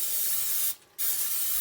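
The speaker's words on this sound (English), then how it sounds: "what I want to spray in my pan is Pam" Pam olive oil cooking spray hisses from its can into a pan in the kitchen, a steady close spray running over a second with one short gap in the middle.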